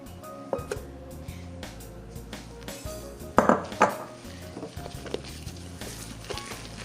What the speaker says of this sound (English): taking about 1/4 to 1/3 of your egg whites and stirring them into your batter